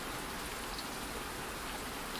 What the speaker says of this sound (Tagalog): Ang ulan ay patuloy pang lumalakas.